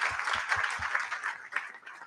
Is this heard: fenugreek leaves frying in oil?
no